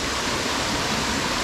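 Minas Viejas waterfall in the Huasteca Potosina, heard as a dense, continuous roar of falling water, loud and close, with nothing else audible.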